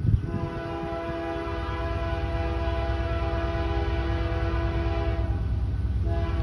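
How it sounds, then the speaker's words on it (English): Mainline freight train, a grain train with a distant-power locomotive, rumbling past with a sustained horn blast over the heavy low roar of the wagons, loud and continuous throughout. "It sounds like a mainline freight."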